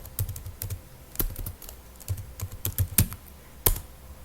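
Rapid keyboard typing, a quick irregular run of clicky keystrokes close by, with a few louder key taps standing out. No one speaks.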